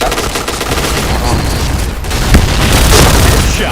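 Grenade blasts and gunfire in the shooter game Point Blank, a loud continuous roar of booms and rapid shots with a heavier explosion swell partway through, with a voice briefly shouting over the noise.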